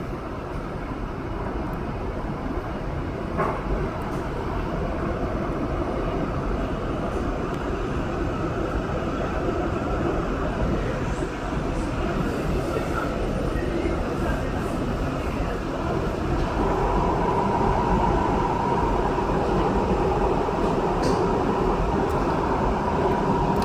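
Riding aboard a REM light metro train on the Anse-à-l'Orme Branch, with a steady low rumble and rolling rail noise throughout, a smooth constant interior drone that rises slightly toward the end, with no talk.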